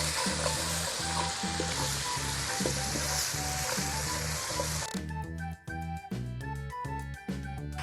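Okra with turmeric, salt and coriander spices sizzles steadily in a pan, a loud continuous frying hiss with rhythmic scraping stir strokes, then the sizzle drops away into clinking, scraping utensil sounds.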